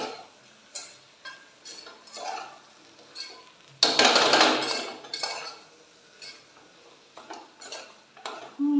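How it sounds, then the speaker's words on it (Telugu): Chili powder being stirred into a cooking pan, with scattered clinks and scrapes of a utensil against the pan, one louder burst of clatter midway, no talking. "కారం వేసేసుకొని ఒకే ఒక్కసారి కలిపేసి"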